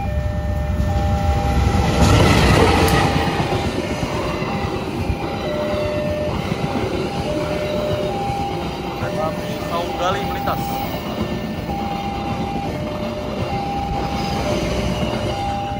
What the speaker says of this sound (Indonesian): Ada dua teman-teman keretanya dari sini juga.